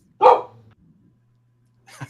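A pet dog gives one loud, close bark indoors, followed by a faint low growl and a second, quieter bark a moment later, with no talking over it.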